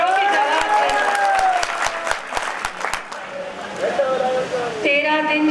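Audience at a Hindi poetry recital claps in a loud, brisk burst of applause, with a poet's voice speaking over and after the clapping.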